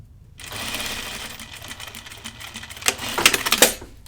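A sewing machine stitches a corner on a garment with a back tack, a steady close mechanical whirr that runs continuously and speeds into sharper rattling bursts near the end.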